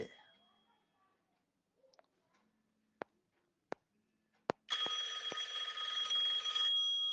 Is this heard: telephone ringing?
yes